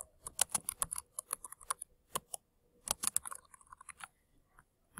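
Rapid clattering keystrokes on a computer keyboard, close and fairly quiet, coming in uneven bursts with short pauses, no voices.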